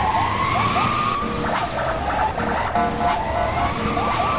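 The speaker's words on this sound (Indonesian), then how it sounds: "Oke guys, sirinenya sudah dihidupkan." A police box truck's siren wails continuously in a video game, loud and close, cycling in steady repeating sweeps over a rumbling engine with clattering bumps.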